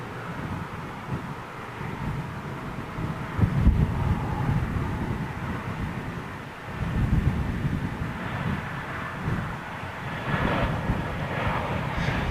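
A big passenger jet on landing approach roars steadily overhead for the whole stretch, a broad low rumble that swells and eases with gusts of wind buffeting the microphone and no voices.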